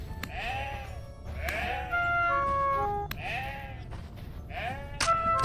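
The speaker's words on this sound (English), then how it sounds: "We picked a fight with a goat." A goat in the survival game Vintage Story bleats several times in short, wavering cries spaced a second or so apart, loud and close, with steady game ambience and brief tonal chimes between the calls.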